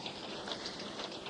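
A steady wash of rain falling on a surface, even and unbroken, fairly faint and heard alone with no voice.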